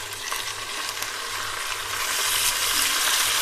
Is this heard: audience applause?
no